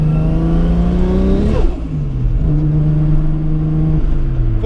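Toyota 2JZ-GTE engine car pulling hard in fourth gear on R-compound tyres in cold winter conditions, a loud, close, steadily rising engine note with a brief dip mid-pull, heard alone.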